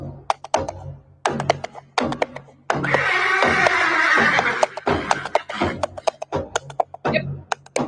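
A horse neighs in one long, loud whinny in the middle, surrounded by a series of sharp knocking and clattering taps before and after.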